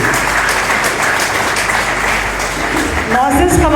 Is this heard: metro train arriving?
no